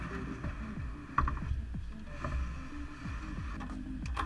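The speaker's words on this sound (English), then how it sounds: "I can slide it out of the battery frame." The auxiliary battery of a Boeing 737 slid out of its metal frame: faint scraping and sliding with scattered small clicks and knocks of metal on metal, quiet and close, with no talk.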